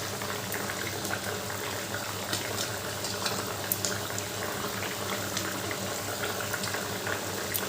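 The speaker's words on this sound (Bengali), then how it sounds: "ঝোলটা ভালোভাবেই ফুটছে" Curry gravy with fried potatoes boils steadily in a pot, a continuous bubbling and popping hiss that stays even and moderately loud throughout, with no voices.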